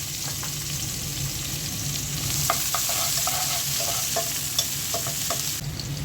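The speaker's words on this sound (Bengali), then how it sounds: "তেলটা গরম করে নিলাম, এখন পেঁয়াজটা দিয়ে দিচ্ছি।" Onion sizzles and is stirred in hot oil previously used for frying fish, in a home kitchen. A steady, close frying hiss carries throughout, with light scraping stirs and no speech.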